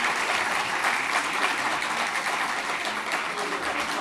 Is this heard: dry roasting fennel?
no